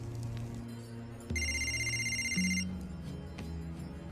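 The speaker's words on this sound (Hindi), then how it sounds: "आपका फोन है।" A telephone bell rings in one sustained burst of bright, metallic trilling, loud and close, over a low background hum.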